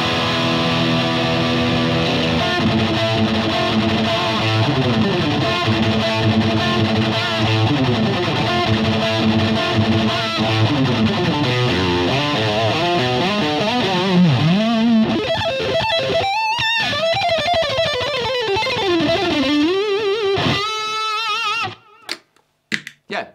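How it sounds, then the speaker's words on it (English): Electric guitar through a Fender Yngwie Malmsteen Overdrive pedal: sustained, gritty overdriven notes and bends for about twenty seconds, then a few abrupt muted stabs at the end, loud and close, with no voices. "I also have a Fender Yngwie Malmsteen Overdrive for reference."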